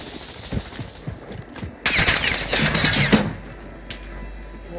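Rapid automatic gunfire in a video game, with a short burst of sharp shots that builds into a dense volley, then scattered single shots. Game effects sit in the background.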